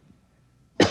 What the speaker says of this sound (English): I'll cough twice, like this.